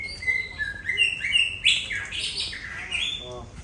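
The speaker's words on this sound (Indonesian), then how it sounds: "Ini burung andoko nih, cicak hijau" A green leafbird (cucak hijau) sings nearby in a run of clear, bright chirps and whistled phrases, rising and falling in quick succession without any talk.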